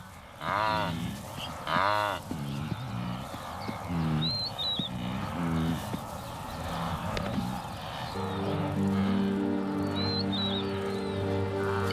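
Wildebeest mother and calf call back and forth on open plains, deep nasal moos and grunts repeated several times, with faint bird chirps around them and a steady background hum later.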